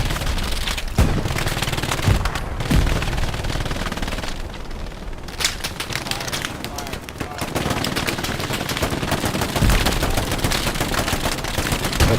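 Loud, close gunfire in the World War II shooter Hell Let Loose, with repeated rifle and machine-gun bursts crackling almost continuously and a few heavier booms mixed in.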